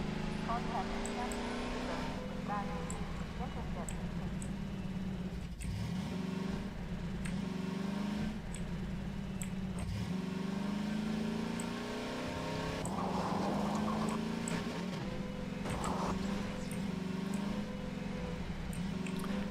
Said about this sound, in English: I'll climb in the car and drive along